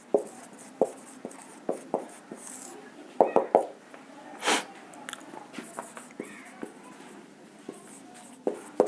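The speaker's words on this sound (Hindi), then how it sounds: "सबसे पहला मैं लिखता हूं" Chalk or marker writing sentences on a board, a run of short tapping strokes and scratches in irregular bursts, close and fairly quiet, with brief bits of voice in between.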